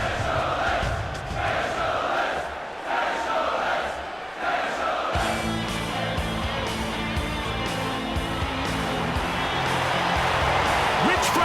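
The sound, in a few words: crowd cheering in UFC 24 video game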